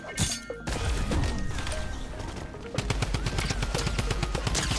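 Rapid bursts of automatic gunfire in the Fortnite video game, close and loud, with a dense opening volley, a brief lull, then a fast stream of sharp repeated shots.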